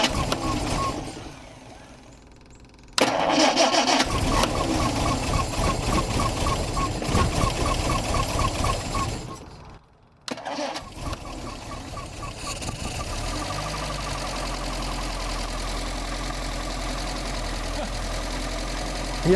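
A 1960 Triumph TR3A engine with freshly serviced carburetors cranks and catches, then settles into a steady, slightly rough idle after a brief cutout and restart, heard up close.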